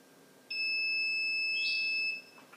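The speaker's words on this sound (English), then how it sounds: "There's the second beep." A single electronic beep from an LTech T4 controller during a zone reset, a clean high-pitched tone lasting about a second and a half, close and loud against a quiet room.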